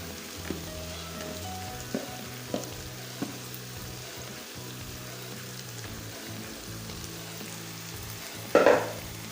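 Boiled vegetables and cabbage for desi-style chicken macaroni are fried in a pan, giving a continuous close sizzle. A few spatula taps land early on, and a louder burst of frying noise comes near the end, with no talking.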